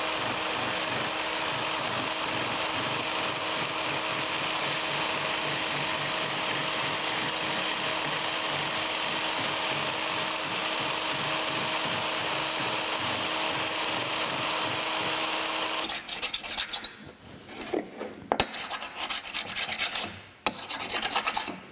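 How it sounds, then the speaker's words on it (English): Tapered lathe gib for a Monarch lathe cross slide being hand scraped, a steady close rasping scrape that runs continuously for a long stretch, then breaks into shorter separate strokes with brief pauses. "we're going to continue scraping this on out"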